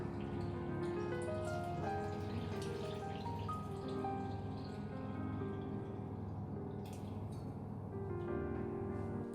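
Water pours steadily into a bowl of pizza dough mix, about 200 grams pooled in the middle of the flour, a continuous close trickling and splashing that holds an even level throughout with no talking.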